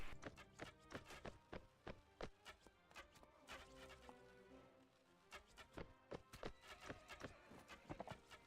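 Rapid hoofbeats of a horse in Mount & Blade: Warband clatter in uneven bursts, close and loud, with a brief whinny mixed in among the thudding steps.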